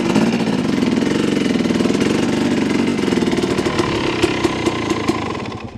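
A dirt bike fitted with a Rekluse auto clutch idles close by after starting on a hillside, a loud, rapid, steady engine putter that wavers in pitch, then turns rougher and pulses unevenly as it stalls.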